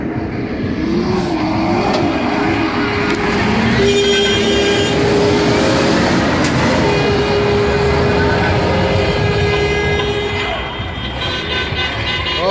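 Vehicles in a festive procession for a bulldozer driver's last day spin out, giving loud, sustained engine roar with tyre squeal and horn toots that run throughout, with voices mixed in.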